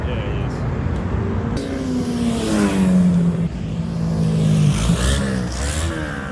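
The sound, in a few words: loud car exhaust revving in a parking lot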